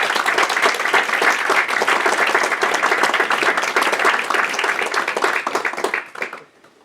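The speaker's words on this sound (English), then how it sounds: "let's do another round of applause for the speakers" Audience applause after talks at an Astronomy on Tap science evening, with dense, loud, sustained clapping from many hands that keeps up for about six seconds and then fades out quickly.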